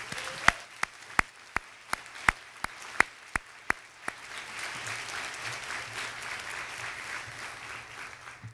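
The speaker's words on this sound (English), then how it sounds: "let's give them a round of applause" Annual meeting audience applauds the chamber of commerce staff: a few loud, evenly spaced individual claps ring out first, then a broader wash of crowd clapping builds and continues softly in the room.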